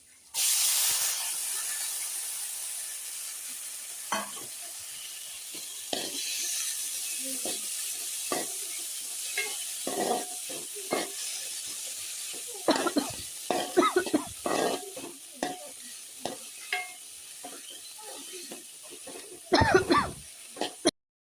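Beans tipped into a hot pan with chili powder, sizzling and hissing steadily throughout, with scattered stirring scrapes and a few louder bursts of spitting near the end.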